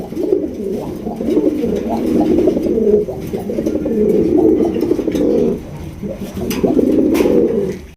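A male chocolate-coloured Mukkhi pigeon coos loudly and close up in repeated long, throaty rolling bouts separated by brief pauses.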